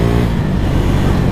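A Rokon motorbike engine drones loud and close as it picks up speed, with a steady low rumble throughout the short stretch.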